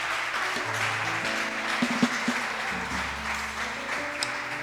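A church congregation applauds the Lord in a steady, moderate wash of clapping, with sustained musical tones from instruments beneath and a few louder claps standing out.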